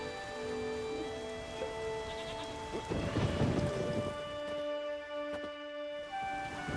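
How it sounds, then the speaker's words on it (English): Steady rain hisses in The Witcher 3 as a deep roll of thunder swells and rumbles through the middle, with a low ambient musical drone underneath and no voices. "There's no point standing here in the rain."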